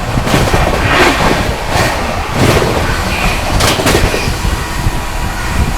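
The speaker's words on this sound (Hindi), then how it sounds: "चलिए दोस्तों अपनी Shiv Ganga superfast express overtake करने जा रही है दामकुनी आनंद विहार स्पेशल को" Shiv Ganga Superfast Express overtaking the Damkuni Anand Vihar Special on Indian rails: a loud, steady roar of wheels and rushing air with rhythmic rattling bursts, heard close from inside a 2AC coach.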